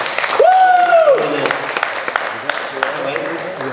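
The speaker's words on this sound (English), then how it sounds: "give a round of applause" Audience applause at a coaching seminar session, a continuous clapping wash under a raised voice and a brief whistle-like tone near the start, with scattered louder claps.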